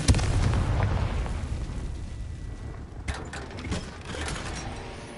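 A Confringo blasting spell detonates against rocks in Hogwarts Legacy, opening with a sharp booming blast followed by rumbling debris and a few scattered crackling impacts that gradually settle.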